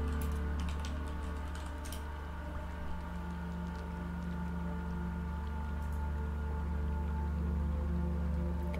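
Fast, irregular clicking of a computer keyboard with a fault that makes it type double, close and fairly quiet over a constant low hum.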